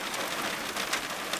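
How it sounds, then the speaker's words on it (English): Steady rain patters on a surface during car camping, a close, even hiss of many drops with no pauses and no talking. "although I didn't plan to go out in the rain"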